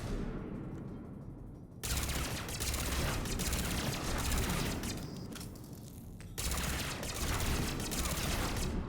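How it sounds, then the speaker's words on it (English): Sustained, dense automatic gunfire in the video game Mass Effect, aimed at a piloted mech, pouring out in loud continuous bursts with two brief sharp cuts between volleys. "I think I need to shoot it in his canopy."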